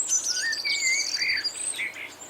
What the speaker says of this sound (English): And here are the blue tits, with their pretty blue caps.